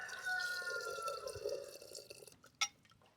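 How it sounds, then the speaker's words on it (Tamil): Tamarind water poured into beetroot rasam in a village kitchen: a faint, continuous liquid pour and trickle that fades, followed by a few drips and a single light clink. "அப்போ இனி புளி தண்ணி ஊற்றிக்கலாம்."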